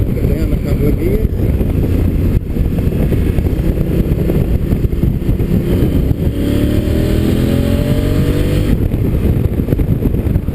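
Wind roars hard over a 2016 Honda Africa Twin under way as its engine drops through a couple of gears, with the revs rising and falling in a short burst of changing engine tone.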